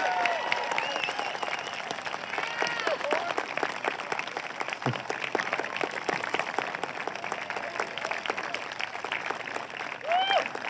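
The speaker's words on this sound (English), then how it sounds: "please stand up and give Miss Collantine a round of applause for all her contributions after 27 years." Sustained crowd applause at a 2021 high school graduation, continuous dense clapping with scattered cheers and whistles in a large audience, steady for about ten seconds.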